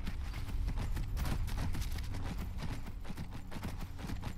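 Horse hooves gallop in the video game Skyrim, a fast continuous clip-clop of rapid thudding beats filling the whole stretch at steady loudness.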